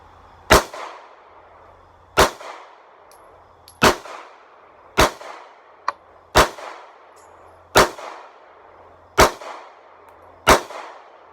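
Eight sharp pistol shots from an M&P 9mm Shield fitted with an Apex trigger kit, fired at a steady pace roughly every second and a half, loud and close with short ringing tails.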